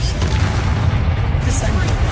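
A Confringo spell blast in a video game booms loudly, a dense continuous roar of explosive noise lasting a couple of seconds.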